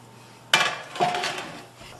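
A metal pan set down with a sharp clank, followed by a second lighter knock and a brief scraping rattle, close by with no talk.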